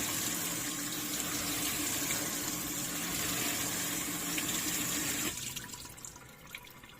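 Tap water runs steadily into a sink while parsley roots are rinsed in a kitchen, a continuous soft splashing hiss that cuts off near the end and leaves quiet room sound, with no talk.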